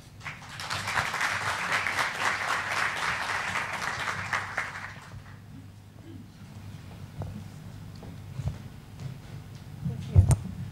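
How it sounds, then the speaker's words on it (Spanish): Audience at an education technology conference in Madrid applauding to welcome a speaker, a burst of clapping for about five seconds that fades into room noise, scattered voices and handling sounds. "Les pido un aplauso"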